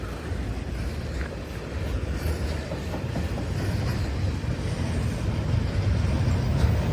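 Long freight train rolling past close by on the rails, a loud continuous rumble with rhythmic wheel clatter that builds slightly and holds steady throughout.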